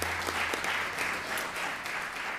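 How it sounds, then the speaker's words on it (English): A room at a city council meeting breaks into steady applause honoring city employees, continuous even clapping from a seated crowd with no talking over it. "let's give them a round of applause"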